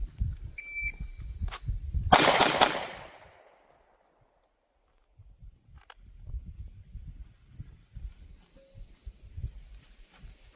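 A Canik Prime pistol fires after a quick draw from a holster, with one loud, sharp shot standing out above scuffing and handling noise before a stretch of near silence.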